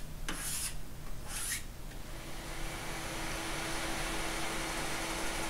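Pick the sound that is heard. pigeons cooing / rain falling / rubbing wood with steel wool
rubbing wood with steel wool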